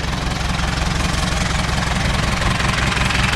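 An old farm tractor engine, smoking as it runs, idles steadily nearby with a continuous low, knocking throb and no talk over it.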